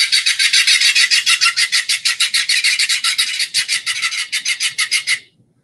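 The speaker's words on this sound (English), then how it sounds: "their call sounds like a series of sort of consistent grunts or claps" A clapper rail gives a long run of rapid, dry clapping notes in an even rhythm, loud and close, slowing slightly before stopping abruptly.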